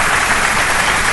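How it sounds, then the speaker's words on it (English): A radiothon audience gives a round of applause, a steady wash of clapping that holds evenly through the short moment with no voices over it. "I think we need to give Mr. John Biven a nice round of applause."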